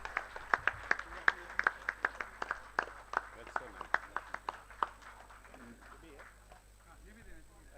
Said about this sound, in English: Ladies and gentlemen, let's applaud for Mr.